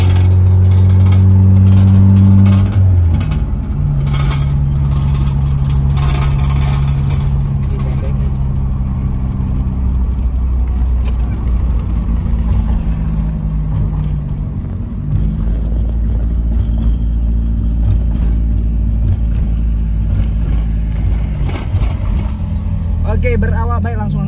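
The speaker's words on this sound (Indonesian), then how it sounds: "Ini gua pakai mobil BMW E30 M4 men." A 1991 BMW E30 with the M40 engine drives along the toll road, its steady low engine drone and road rumble running continuously throughout, with a brief rev or gear change near the start.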